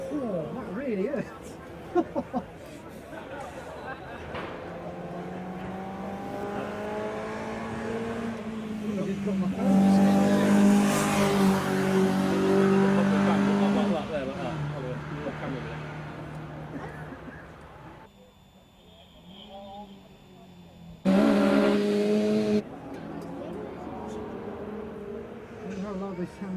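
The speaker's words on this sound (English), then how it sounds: "Cars are moving around in the paddock area." Retro cars move around the paddock at a car show, engines rumbling and revving, some passing close and loud and then fading away. Voices speak throughout.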